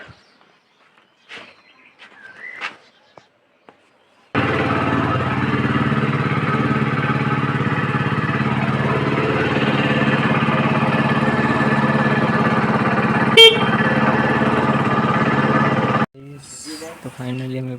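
A motorbike ridden to a plumbing job in a village rumbles steadily and close for about twelve seconds, with a brief sharp knock partway through, preceded and followed by quieter handling sounds and faint voices.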